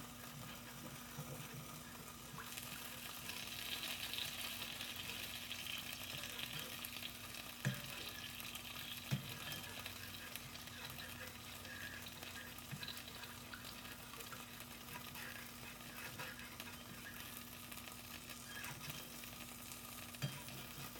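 Gravy cooking in a pan gives a steady low sizzle and bubble throughout, joined by a few faint clinks of a utensil stirring, with no talking.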